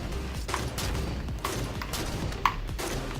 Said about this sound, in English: let's go and start shooting each other with snipers